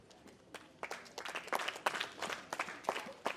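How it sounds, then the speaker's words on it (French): An audience at a school ceremony applauds a teacher, scattered, uneven clapping from a modest crowd in a room, fairly quiet with irregular bursts of sharper claps. "vous avez applaudi pour lui"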